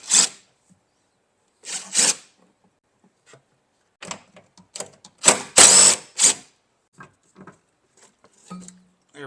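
A socket wrench ratchets on a bolt in the engine bay of a 2006 Jeep Liberty, sounding as short separate bursts of quick clicking, close and crisp, with quiet pauses between strokes.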